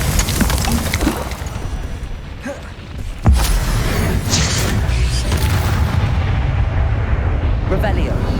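Confringo blasting spell explosions in Hogwarts Legacy, loud booming bursts over dense game noise, with a sharp crack partway through followed by rumbling blasts.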